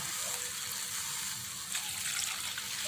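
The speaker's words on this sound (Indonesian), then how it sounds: "selanjutnya masih saya tambahkan airnya" Water pours steadily into a cooking pot for a vegetable curry with fern shoots, tofu and quail eggs, a close, continuous splashing gush with no talk.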